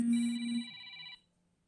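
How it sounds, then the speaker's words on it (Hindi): A phone ringtone sounds for an incoming call, a short bright melodic tone lasting about a second before cutting off, clear and alone without talk. "मेरा फोन आ रहा है"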